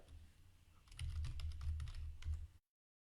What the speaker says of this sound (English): Then type Python and hit enter.